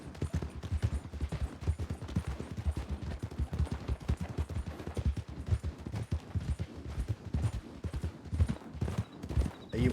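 Horse hooves clip-clop in a quick steady rhythm in a Red Dead roleplay video game, close and continuous, with scattered sharp cracks mixed in behind them.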